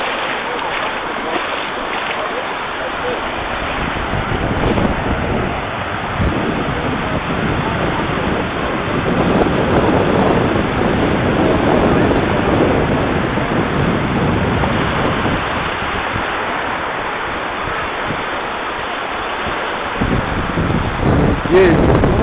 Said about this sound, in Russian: Сейчас зайдем в море, посмотрим, народ купается,